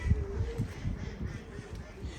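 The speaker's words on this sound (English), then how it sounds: "Said the duck." A duck quacks a few times in woodland along a cycle route, low raspy calls heard faintly at a distance over steady outdoor background noise.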